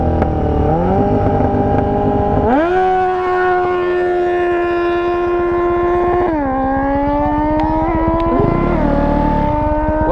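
Dirt bikes racing on a neighborhood street: a loud, close engine drone that holds steady, then jumps in pitch as the throttle opens and settles again, running without a break.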